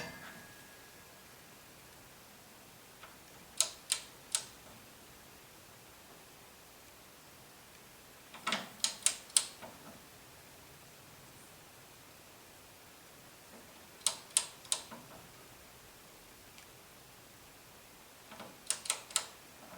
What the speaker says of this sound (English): you're just going to slowly turn it until I hear a click